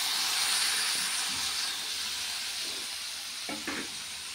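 Continuous hot-oil sizzle and hiss as ground mustard paste goes into a pan, a bright steady frying crackle with a few soft knocks near the end.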